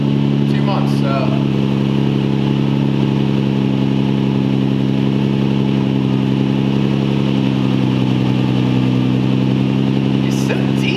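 A Nissan G35 coupe with a VQ35DE engine and Tomei titanium exhaust idles after two months unused, a deep, steady, loud rumble with no revving, and faint voices briefly over it.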